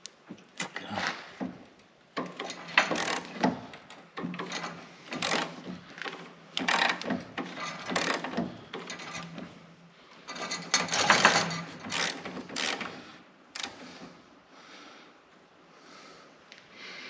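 Socket ratchet wrench working on a cab mount of a Thornycroft Antar Mk3 truck under restoration, giving irregular bursts of clicking and metallic knocks, close and moderately loud with short pauses between strokes.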